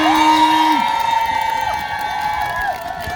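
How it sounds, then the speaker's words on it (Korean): A crowd at an outdoor community culture festival in Gampo-eup cheers and whoops for an orchestra and its conductor, loud sustained shouts and rising calls filling the space with a steady roar. "우리 김현호 감독님과 멋진 관현악단 여러분들께 큰 박수 한 번 부탁드리겠습니다."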